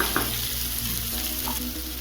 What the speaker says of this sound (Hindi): सारा कुछ अब अच्छे से भून गई है, आलू, सेम, प्याज सब